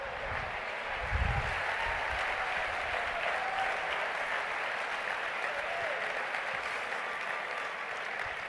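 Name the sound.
audience applause after a card trick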